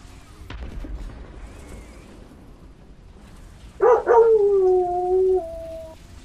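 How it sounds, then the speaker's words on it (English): A dog outside a window gives a loud burst of barks and then a long, sliding howl. Quieter room noise comes before it. "I apologize for the dog."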